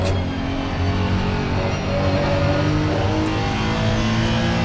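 A Honda GT3 race car engine in Assetto Corsa Competizione drones steadily at Laguna Seca, a loud, continuous mid-pitched hum with no one talking over it.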